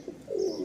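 A single short, soft coo from a caged domestic pigeon, faint and close against a quiet background.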